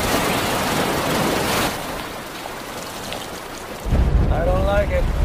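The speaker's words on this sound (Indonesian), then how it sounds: "sorenya hujan turun dengan sangat lebat" Heavy rain pouring down in a steady, dense hiss that drops back briefly and then surges louder with a deeper rumbling wash.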